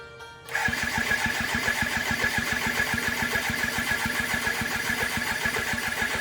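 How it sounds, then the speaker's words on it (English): BMW K1100LT motorcycle starter cranking close up, a brief click and then a fast, even rhythmic churning that continues without the engine catching. "I let the starter off, tried to add some throttle, and bam, no more starter."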